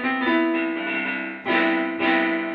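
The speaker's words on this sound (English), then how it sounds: "the first problem is that it randomly plays notes on its own" A hand roll-up silicone keyboard piano sounds sustained notes on its own, a dense held tone that swells again in two fresh attacks near the end, with no one talking.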